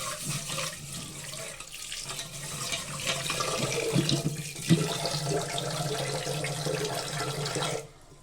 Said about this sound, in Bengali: তো চলো এখন চালটাকেও জলে ভিজিয়ে দিই।